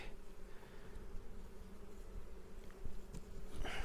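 A steady, close insect buzz of many honeybees humming together in an open hive, with a low droning hum and occasional brief rustles; no talking.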